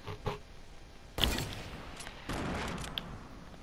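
Gunfire in the Fortnite video game, a few sharp shots with a loud burst at about one second and another in the second half, fairly close and with no talk.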